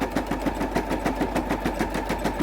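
A sewing machine stitching in the ditch along a quilt seam runs in a steady, rapid mechanical chatter, close and continuous with no voices.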